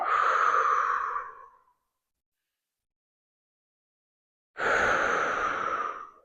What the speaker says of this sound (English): I'm taking nice deep belly breaths.